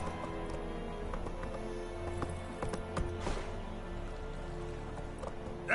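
Video game horse Roach galloping, a fast rhythmic clatter of hoofbeats over a steady background hum, moderately close, with no talk.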